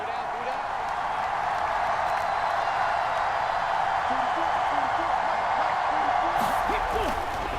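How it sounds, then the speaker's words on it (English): Steady roar of a stadium crowd in an American football video game, loud and continuous throughout, with a few brief rising whistle-like tones near the end. "this crowd trying to force a false start here"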